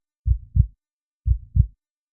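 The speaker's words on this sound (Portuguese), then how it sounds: "começa a ouvir seu próprio batimento cardíaco" A heartbeat sound effect thumps in two pairs of deep, muffled lub-dub beats about a second apart, loud and close against total silence.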